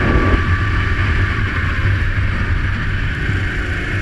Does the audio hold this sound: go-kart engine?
yes